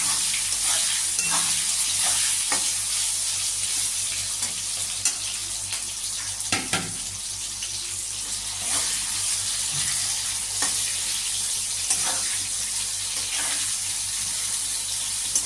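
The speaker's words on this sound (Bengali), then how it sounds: "আলুগুলো আর একটু ভাজা হবে" Potatoes fry with a steady close sizzle in a pan for a ridge gourd and fish curry, crackling hiss punctuated by occasional stirring knocks and scrapes, no voices.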